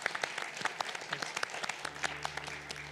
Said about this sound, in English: a round of applause to our esteemed panelists